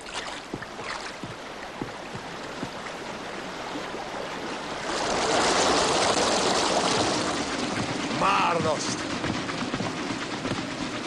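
Water let loose to run through an old village mill after a stormy night surges in as a broad rushing roar that swells midway and stays loud, with voices speaking over it at first.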